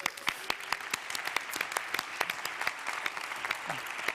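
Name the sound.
audience round of applause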